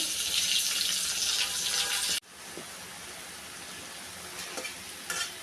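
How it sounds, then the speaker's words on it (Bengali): Fish frying in mustard oil in a home kitchen pan, a steady loud sizzle that drops abruptly partway through, then continues more softly with occasional crackles. "মাছ ভেজে নিচ্ছি"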